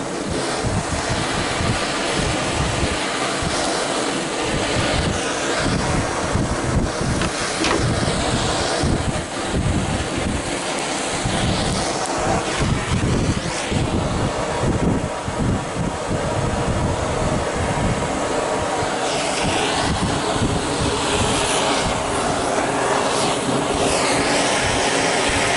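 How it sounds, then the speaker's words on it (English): A gas torch roars steadily while scorching a wooden lap steel guitar, a loud continuous broadband rush with gusty, wind-like fluctuations throughout, with no talking. "I'm gonna cut the gas torch off"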